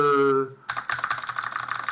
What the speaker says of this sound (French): je touche mon clavier en métal de tueur, fait beaucoup de bruit